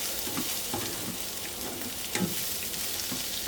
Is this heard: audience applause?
no